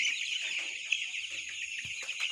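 A dense, constant chorus of many chickens chirping and clucking together, a bright continuous din filling an indoor poultry shed, with no voices.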